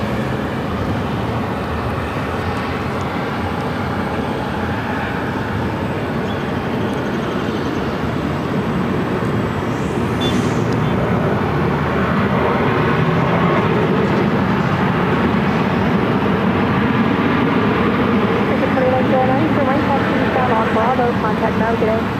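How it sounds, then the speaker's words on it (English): An American Airlines Boeing 737-800 arriving at Phoenix airport from Las Vegas produces a sustained, broad jet roar that swells slightly over time. Talk from people nearby runs underneath. "American Airlines Flight 2109 coming in from Las Vegas on a 737-800"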